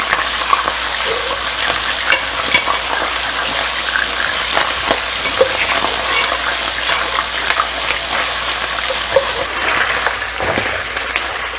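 Mutton karahi fries loudly in a mix of canola and olive oil, a dense, continuous sizzle and crackle with occasional stirring clinks, close and unbroken by speech.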